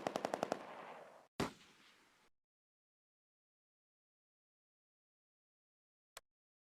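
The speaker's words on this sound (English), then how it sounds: "The Granatwerfer are firing at the British infantry with a Sturmgewehr 44 assault rifle." Bursts of Sturmgewehr 44 assault rifle fire from the Close Combat video game: a rapid string of about six close shots, then a single loud report with a short tail, and after a long silence one more faint, brief crack.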